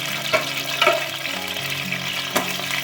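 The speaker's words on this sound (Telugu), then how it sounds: "ఇది పీతలు ముందు ఫ్రై చేసుకోవాలి." Boiled, cleaned crabs fry in a pan with masala, giving a steady close sizzle and crackle with a few small pops and stirring knocks.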